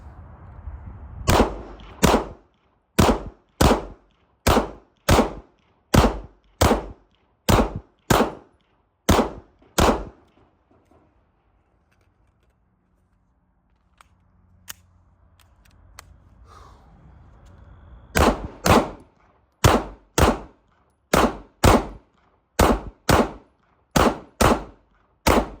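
Smith & Wesson M&P 2.0 pistol firing in a 1,000-round burndown, two rapid strings of about a dozen sharp loud shots each, separated by a long quiet pause with faint handling noise.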